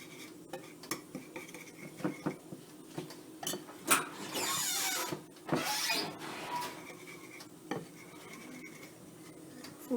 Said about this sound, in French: Et on va continuer à mélanger